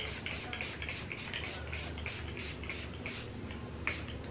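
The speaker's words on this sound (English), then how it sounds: "with a finishing spray, this is the Life Proof Mecca Max setting spray" A rapid series of short bursts of Mecca Max setting spray, about a dozen quick pumps in an even rhythm, close to the microphone with no talking.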